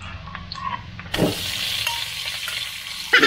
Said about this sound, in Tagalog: Pagsama-samahin lang natin yung giniling, tokwa, at saka tinapa.